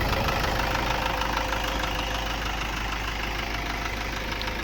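The diesel engine of a 2008 Toyota Innova E Plus runs at a steady idle with a continuous low rumble and a clattering knock, without interruption and with no talking.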